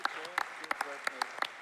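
An audience claps and cheers for a man named Joel in a church gathering, scattered sharp handclaps at moderate distance, fairly faint, with voices mixed in.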